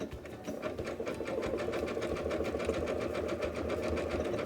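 Sewing machine running a continuous zigzag stitch over coiled rope while a rope bowl is assembled, a close, steady rapid clatter with even mechanical ticking throughout.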